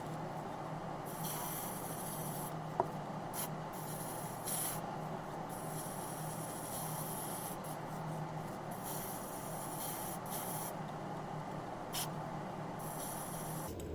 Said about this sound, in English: I just gonna spray